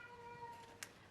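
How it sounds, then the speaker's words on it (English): A house cat gives a single short, faint meow indoors, a brief tonal call that ends in a little breathy burst. "that is my cat."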